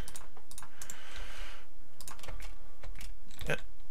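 Typing on a computer keyboard during Minecraft play, a quick run of close, crisp key clicks in irregular bursts with short pauses, fairly soft and with no talking.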